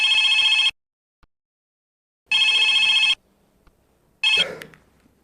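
A telephone rings in three loud electronic bursts separated by silent gaps, the last burst overlapped by a brief rustle and low noise, with no talking.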